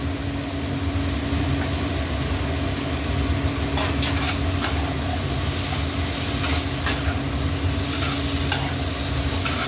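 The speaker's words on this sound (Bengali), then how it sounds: "এগুলোকে নাড়াচাড়া করে ভালো করে কষিয়ে নেব।" Long-cut potatoes fry in hot oil in a wok for a spicy fish curry, giving a steady, dense sizzle throughout with repeated scraping stirs close up and no speech.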